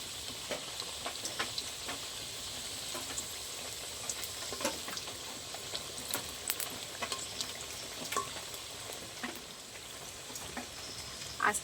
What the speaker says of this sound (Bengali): একবারে বেশি দেওয়া যাবে না অল্প অল্প করে দিয়ে ভাজতে হবে